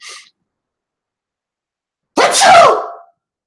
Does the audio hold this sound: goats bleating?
no